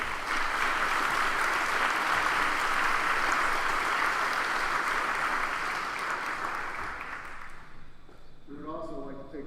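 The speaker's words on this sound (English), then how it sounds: "Please give them another round of applause." Full audience applause at a high school graduation ceremony, a loud continuous roar of clapping that tapers off toward the end as a voice begins speaking.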